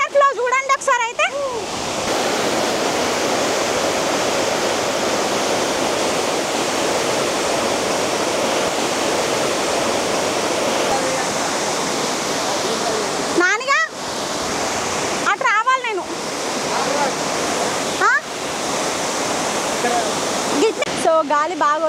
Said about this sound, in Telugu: వాటర్ ఫ్లో చూడండి ఒకసారి అయితే.